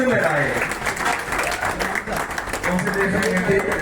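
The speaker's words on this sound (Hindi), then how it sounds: "तालियों से स्वागत बनता" An audience at an Indian community honors ceremony applauds to welcome a woman receiving a certificate of honor, with busy clapping running steadily while a voice talks over it.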